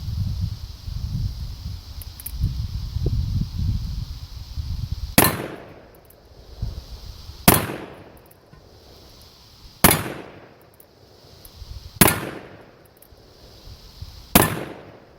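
A Colt Single Action Army revolver, just fitted with a replacement cam, fires five loud sharp shots spaced about two and a half seconds apart, each followed by a brief decay, after a stretch of low handling noise.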